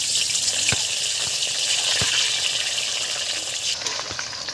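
Grated potatoes frying in hot oil for homemade chips, a steady loud hiss and sizzle with a few sharp pops and crackles throughout, no voices.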